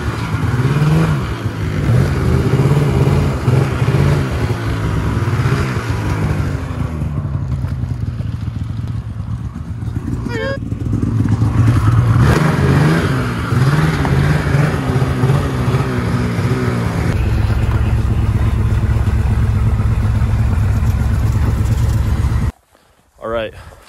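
A Subaru car engine warms up, a loud, continuous idle with rising revs, running under voices for nearly the whole stretch before it suddenly cuts out near the end.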